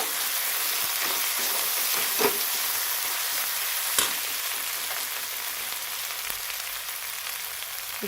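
Green chillies and garlic fry in hot oil as a tempering for Maharashtrian dahi kadhi, a steady close sizzle with a couple of sharp pops and spatters.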